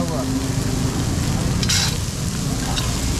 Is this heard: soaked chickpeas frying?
yes